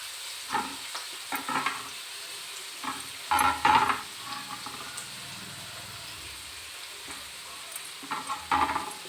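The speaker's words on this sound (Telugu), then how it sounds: "చూడండి, కొంచెం ఫ్రై అవుతుంది." Grated onion, carrot and beetroot are stir-fried in a pan: a soft, steady sizzle broken by several bursts of spatula scraping and stirring, with no one talking.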